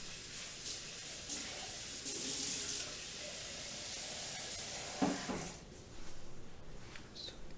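A tap runs water into a sink during late-night cold-process soap making with a stick blender nearby, a steady hissing flow with a few clunks and splashes, close and fairly quiet.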